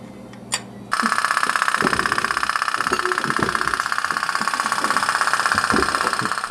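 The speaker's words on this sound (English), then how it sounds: "Here's another cute pop-pop tugboat," A rapid, even putt-putt of a small pop-pop steam tugboat engine from India, close and loud, starting after a brief click and running steadily.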